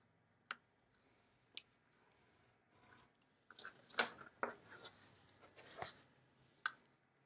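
Metal ball-tipped stylus scoring fold lines into paper, a series of faint, close scratching strokes and small clicks spaced irregularly in a quiet room.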